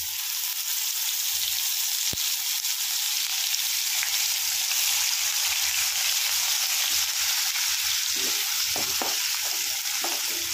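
A paste of ginger, onion, garlic and tomato fries in a pan for a pabda fish curry, giving a loud, steady sizzle throughout with occasional soft stirring scrapes near the end.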